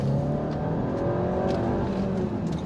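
An Audi Q3 Ambition with a 211 hp engine revs hard as the accelerator is floored, a continuous loud engine drone with a steady rising tone from inside the car.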